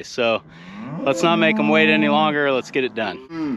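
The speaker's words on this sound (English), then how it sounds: "if you can hear all the noise behind me, I think it's safe to say that the cows are ready to move today" A herd of cattle moos loudly and repeatedly behind someone speaking outdoors in a pasture before a rotation move, the drawn-out lowing calls overlapping and continuing under his talk.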